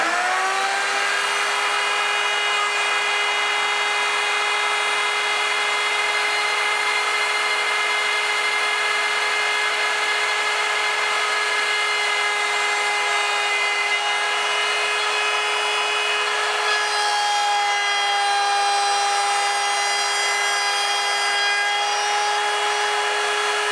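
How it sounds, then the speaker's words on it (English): A router at a table cuts quarter-inch-wide slots through wooden rails, giving a loud, steady, high motor whine that holds one pitch and dips slightly partway through, with no voices. "the next step is actually to cut some slots in either rail, 1/4 inch wide, and I'm going to do that at the router table"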